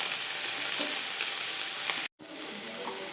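Steady sizzling of cabbage and onion sautéing in a pan, a constant crackly hiss that cuts out for a split second before resuming.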